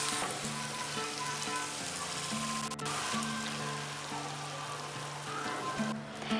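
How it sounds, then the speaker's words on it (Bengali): Ginger frying in oil in a pan, a dense, continuous sizzling hiss heard up close and alone, with faint tonal music underneath. "30 সেকেন্ডের মতন আদাটাকে ভেজে নিয়েছি, আদার কাঁচা গন্ধ চলে গিয়েছে"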